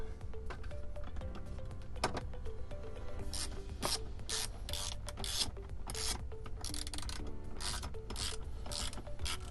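A bolt being tightened on a Tesla Model 3/Y rotating screen mount bracket with a ratchet, quiet repeated clicking and rasping strokes in short bursts, close and steady with no talking.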